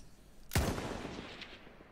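A single rifle shot in the video game Battlefield 1 cracks sharply and close, then a long rumbling echo fades over the following second and a half.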